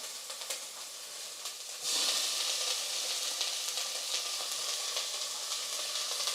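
Tomato and spices hit hot oil in a pan for a home-cooked bhuna khichri, setting off a steady close hiss that jumps to a louder, brighter sizzle about two seconds in and holds there.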